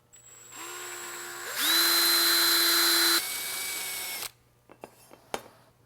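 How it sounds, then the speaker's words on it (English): A power drill with a 210 drill bit bores a hole in a C5/C6 Corvette control arm, whining up, rising in pitch and holding for a few seconds, then stopping, followed by a few faint clicks and knocks. "I'm going to take a 210 drill bit."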